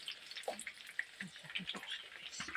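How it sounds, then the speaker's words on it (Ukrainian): Lazy pies crackle and sizzle as they fry in a pan, with quiet, irregular popping and spitting, fairly faint and continuous. "Смажиться."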